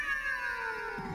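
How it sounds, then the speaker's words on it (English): A cat meowing, as captured in a recorded audio clip: one drawn-out, wavering meow sung close and clear on its own, falling slightly in pitch and ending with a brief rougher cry. "someone put a microphone up to this cat"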